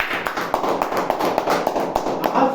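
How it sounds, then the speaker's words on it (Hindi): Audience applause for a company MD at a health supplement event, a close burst of sharp, uneven hand claps repeating rapidly throughout, no talk. "तो एक बार उनके लिए जोरदार तालियां।"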